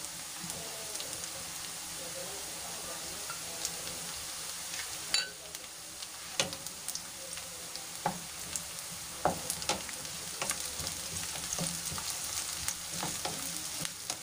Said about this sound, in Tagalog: I-golden brown lang natin yan guys, mga sangkap, sibuyas, bawang, luya